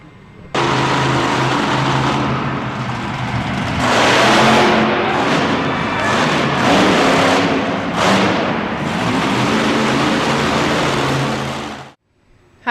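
The Airborne Ranger monster truck's engine roars loud and close, swelling into hard revs with brief dips between bursts before cutting off abruptly near the end, with no talk.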